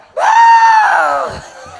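A performer's voice imitates an elephant trumpeting during a Tamil village stage drama of Valli's wedding: one loud, sustained, strained cry lasting well over a second and fading slightly at the end.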